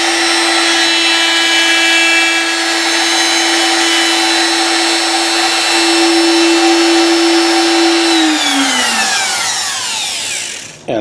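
A power saw cuts through a Gibson guitar fingerboard with a loud, steady whine held for about eight seconds, then winds down in pitch as the blade slows to a stop.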